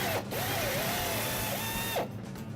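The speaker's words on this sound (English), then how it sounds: "If needed, drill a pilot hole and then use a larger bit." A power drill bores a pilot hole for a bracket during a Cummins filter install, a loud steady high whine with a brief pitch sweep as the motor spins up and winds down, no talk.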